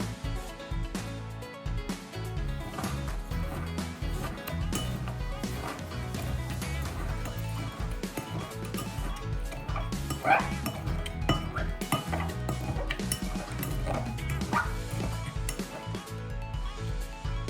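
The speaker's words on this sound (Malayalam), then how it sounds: "1 table spoon blueberry, 1 table spoon sugar. ഇവയെല്ലാം ചേർത്ത് നന്നായി മടല് ചെയ്യുക." Blueberries and sugar muddled in a glass for a cocktail, with repeated clinks and knocks of the muddler against glass over a soft continuous background, loud and close throughout.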